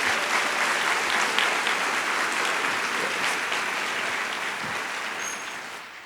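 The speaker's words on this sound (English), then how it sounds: "with a warm round of applause for what they're doing this evening" A warm round of applause from the audience at a spring college commencement ceremony, dense steady clapping that fills the hall and holds nearly constant before easing slightly at the end.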